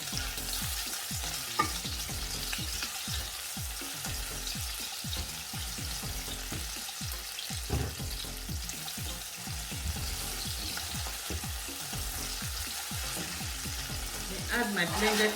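Tomato puree and blended pepper fry in a pan with a constant close sizzle, while a spoon stirs in repeated scraping strokes throughout.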